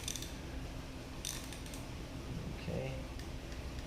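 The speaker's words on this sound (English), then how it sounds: "I'm gonna just tighten up these guys with a 10 mil socket" A ratchet with a 10 mm socket tightens water pump bolts on a 4AGE engine, making a few quick, faint clicking runs at close range over a low background hum.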